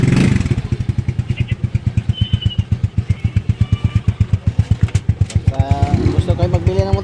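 A motorcycle engine runs close by with a fast, even pulsing beat like a sharp idle, rising into a brief rev toward the end, with a voice faintly under it.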